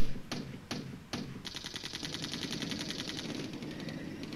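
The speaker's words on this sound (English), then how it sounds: "Open fire, lads." Units open fire in the wargame Flashpoint Campaigns: Red Storm, a few heavy single shots followed by a sustained rapid machine-gun rattle, loud and continuous, with no talk.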